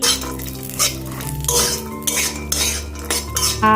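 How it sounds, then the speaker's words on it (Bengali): Cashews and raisins fry in ghee in a wok with a close sizzle, while a metal spatula repeatedly scrapes and clinks against the pan in an uneven rhythm. "আর ঘির মধ্যে যে দেখো কাজু বাদাম আর কিশমিশটা ভেজে নিচ্ছি।"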